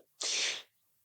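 A single short sneeze, close and loud, rises sharply and cuts off within about half a second, followed by quiet.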